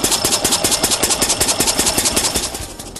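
The engine of an 1886 Benz, started by hand-cranking, runs with a steady rapid pulsing chug, loud and close, before fading slightly at the end.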